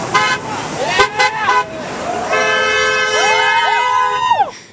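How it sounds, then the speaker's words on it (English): Car horns honk repeatedly in sustained, overlapping blasts along a street beside an Occupy Boston protest encampment, with crowd noise in the background. "The silence was only broken by the sound of drivers responding to honk for U.S. job signs"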